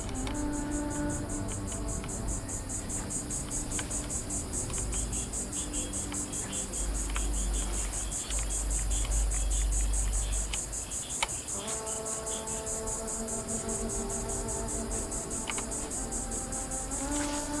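Night crickets in Fallout 76's forest chirp in a steady, dense, high-pitched trill that runs throughout, layered with soft ambient tones and a low rumble in the middle, with no speech.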